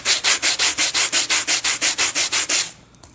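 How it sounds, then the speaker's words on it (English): Small sanding block rubbed back and forth over an alcohol-inked metal jewelry blank, about fourteen quick, even scraping strokes close up, then stopping. "I like to use these little sander blocks"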